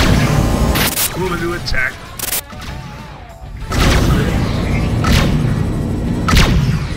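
Incoming missiles burst in a space battle in Rebel Galaxy, heavy booms and crashes striking several times over a constant rumble, with a synthetic voice speaking over the blasts.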